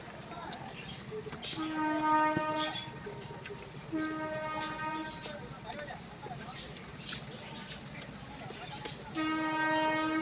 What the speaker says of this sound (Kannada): ಯಾವುದೋ ಒಂದು ಟ್ರೈನ್ ಕ್ರಾಸ್ ಆಗ್ತಾಯಿದೆ